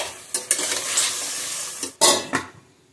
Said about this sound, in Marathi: मटण चांगलं फोडणीमध्ये परतवून घ्यायचं